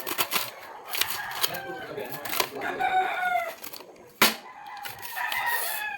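A rooster crows amid a busy morning soundscape, with clucking, rustling and background chatter of buyers mixed together at moderate distance.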